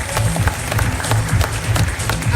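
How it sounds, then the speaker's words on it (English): Audience applause at a boxing press conference for Pacquiao vs Matthysse, a steady patter of many hands clapping for several seconds with little talk over it. "give a very big round of applause for President of Golden Boy Promotion, Mr. Eric Gomez"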